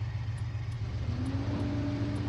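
A heavy Sany excavator engine in Farming Simulator rumbles steadily, then its pitch rises as it revs up, with faint periodic ticking above it; no voices.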